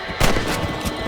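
Rifle fire while hunting rabbits in Red Dead Redemption: a sharp close shot, then a couple of fainter cracks and echoing reports trailing over a steady outdoor backdrop.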